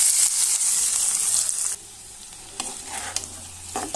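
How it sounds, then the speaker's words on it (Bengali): Wild taro leaves fried with onion and garlic, a loud bright sizzle at first that drops off, followed by quieter irregular stirring scrapes and taps against the pan. "এখন সুন্দরভাবে নেড়ে ছেড়ে নেব।"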